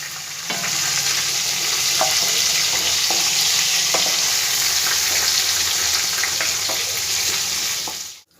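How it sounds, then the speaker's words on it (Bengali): Flat beans fry in hot oil in a pan, with a loud, steady sizzle and hiss that continues throughout, punctuated by occasional scrapes and clicks of a spatula stirring, close by and without speech before it cuts off at the end. "দেখো সিমগুলো আমার সব ভাজা হয়ে গেছে, সিমগুলো আমি এবার আস্তে আস্তে সব তুলে দেবো।"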